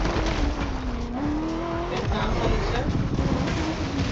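A race car in the video game Crew Motorfest screams along at around 360 km/h. Its engine whine climbs steadily and stays loud and continuous, with a broad roar of rushing road and tyre noise beneath it.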